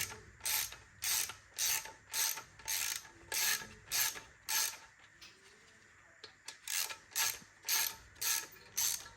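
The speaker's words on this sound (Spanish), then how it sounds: "Con una llave de 13 milímetros de tubo vamos a quitar, aflojando la tuerca." A 13 mm socket wrench ratchets steadily while loosening a nut on the C635 transmission of an Alfa Romeo 4C, giving close, regular bursts of clicking with a short pause in the middle before the clicking resumes.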